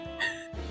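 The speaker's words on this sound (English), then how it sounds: "That's a dog, alright?" A dog in the Layton Brothers: Mystery Room video game gives a short, close yip or bark, a brief sound effect between near-silent gaps.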